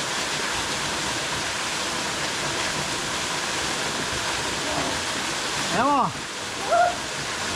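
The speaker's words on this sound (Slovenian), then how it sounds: "še slap Krampeš z te strani" Krampeš waterfall in the Slovenian border area roars as a steady, loud broadband rush of falling water throughout, with a brief spoken word near the end over the constant flow.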